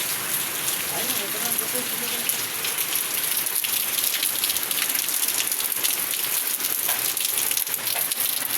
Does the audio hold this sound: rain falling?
yes